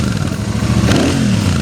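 A Royal Enfield Super Meteor 650 cruiser engine, a close, loud, thumpy rumble with rapid low pulsing, with a clattery surge partway through as it revs.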